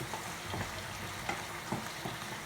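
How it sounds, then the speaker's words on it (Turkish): Tomatoes fry in a pan for a homemade İskender, with a steady broadband sizzle and a few soft stirring knocks, close and continuous with no talk. "Domatesimizi kavurup su ilave edeceğiz."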